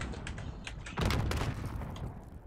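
Gunfire from a sniper rifle in the video game Call of Duty Warzone, with a loud burst of shots near one second and ongoing firing and game noise after it, alone without talk.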